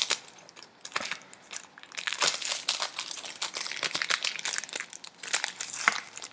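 Plastic packaging holding a set of three fine liner paintbrushes being opened by hand, a close, busy run of crinkling and rustling with sharp crackles throughout.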